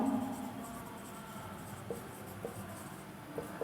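Pen writing on paper while working a class 10 maths problem, soft close scratchy strokes and a few light taps under quiet room tone.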